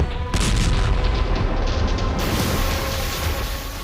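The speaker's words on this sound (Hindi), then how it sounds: "हिजबुल्लाह ने आईडीएफ के मेरोन बेस के पास 7 बार विस्फोट किए।" Explosions from a Hezbollah attack near the IDF Meron base in northern Israel form a loud, sustained booming roar that starts abruptly and rumbles on heavily for several seconds.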